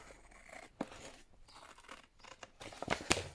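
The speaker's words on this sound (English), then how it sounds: "We've got a little overhang there, just trim that off." Scissors trim a small paper overhang on a handmade craft journal: a few quiet, crisp snips, one early and two in quick succession near the end, over soft room noise.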